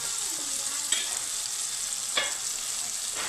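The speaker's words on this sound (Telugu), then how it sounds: "టమాటాలు వేగేమో చూసుకుందాం." Tomatoes sizzle steadily in a hot pan for tomato rice, with a few soft scrapes as they are stirred, close and continuous with no talking.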